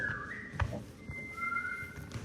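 Someone on a theater stage whistles, producing a few thin sustained tones with a pitch slide, close but modest in volume over a faint room background.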